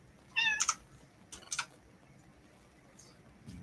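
A house cat meows twice in short, close calls a second apart, with a faint third chirp, over a quiet room.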